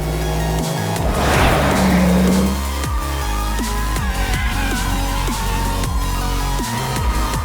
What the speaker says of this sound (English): We have some heavy handling happening right now.